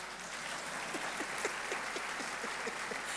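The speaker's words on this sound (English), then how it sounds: "When I'm slowing down like that, it means I want you to clap." An audience at a school's 50th anniversary celebration applauds, a steady, moderately distant wash of many hands clapping that persists throughout beneath a faint low hum.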